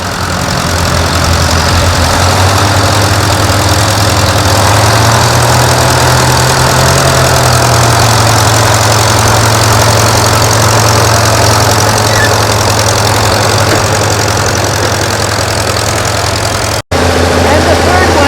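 An antique pioneer-era tractor engine idles loud and close during a Northern Maine plow day, a steady low rumble with a droning throb that holds unbroken for nearly the whole stretch, cut by one brief dropout near the end.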